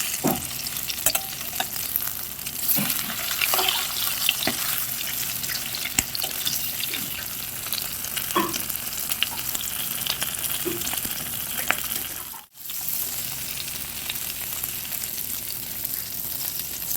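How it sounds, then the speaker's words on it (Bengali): Battered prawns fry one by one in oil, giving a continuous, close sizzle with scattered pops and stirring noises, briefly cut off once midway before resuming. "এটাই চিংড়া মাছগুলো ভেজে নেব"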